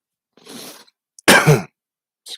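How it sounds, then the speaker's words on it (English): A man coughs twice during a livestream, a harsh burst followed by a louder, fuller cough, close to the mic in a quiet room with a faint trailing sound at the end. "excuse pardon me for coughing"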